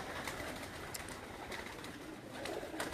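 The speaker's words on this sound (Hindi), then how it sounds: "मलक अदनान, वो भी 2 हाथ में कबूतर पकड़े खड़ा है।" Pigeons cooing softly amid steady outdoor noise, with no talking.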